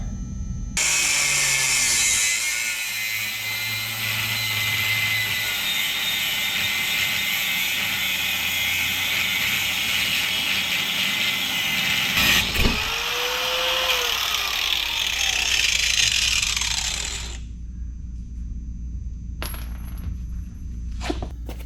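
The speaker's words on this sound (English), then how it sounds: "I just cut the stud off because it was in the way" Power tool cutting through a suspension stud on a box van, heard as a steady, loud, high-pitched grinding whine lasting most of the clip with a brief clunk midway, then stopping to quieter clicks and shop noise.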